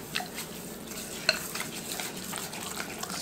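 Raw uncooked rice stirred into melted butter in a pan, a soft continuous sizzle with light scraping strokes and one brief sharp clink.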